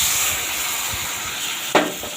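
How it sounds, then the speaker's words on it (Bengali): Spice paste of cumin, coriander, chilli and turmeric powder with ginger-garlic paste fries in oil for a mussel curry, giving a soft continuous hiss and sizzle with one sharp scrape or flare near the end. "একসঙ্গে দিয়ে এবার মশলাটা কষতে থাকবো"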